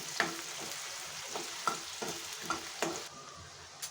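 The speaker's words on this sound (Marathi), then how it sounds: "बारीक चिरलेला कांदा त्याला टाकून लालसर होईपर्यंत परतून घ्यायचा आहे" Finely chopped onion sautéing in a pan, a soft steady sizzle broken by regular scraping strokes of a spoon every half second or so, close and fairly quiet, with no speech.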